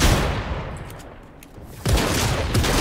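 Submachine gun fire in a video game, loud rapid bursts at close range, a long stream that eases off and then another dense burst kicks in.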